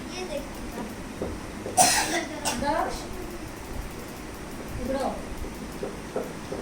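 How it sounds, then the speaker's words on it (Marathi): A sharp cough bursts out close by, followed by a few smaller coughs amid ongoing Buddhist paritta chanting and soft background noise. "आता खोकला येतो"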